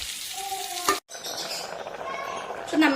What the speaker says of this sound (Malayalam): ഇനി നന്നായിട്ടൊന്ന് ഇളക്കി കൊടുക്കേ